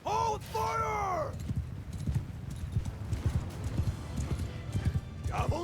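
Horses galloping in the video game Mount & Blade II Bannerlord, a rapid clatter of many hooves with a horse whinnying at the start and again near the end, under a voice talking.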